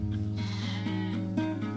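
Sheep and lambs bleat in wavering, close, fairly loud calls, one voice following another, in a sheep-rearing barn at the Bergerie nationale farm.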